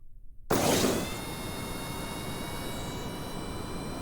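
An airplane engine in Kerbal Space Program, a video game, kicks in abruptly after near silence, swells to a loud jet-like roar, then settles into a sustained high whine with a broad rushing noise beneath.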